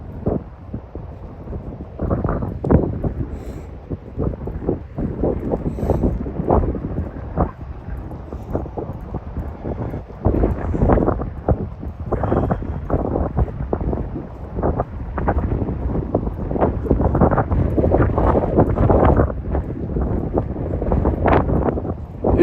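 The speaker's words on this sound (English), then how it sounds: "Is the wind too much?" Gusty wind buffets the microphone outdoors on a shared bike and walking path, a loud, uneven low rumble that surges and swells in bursts throughout, with no talking.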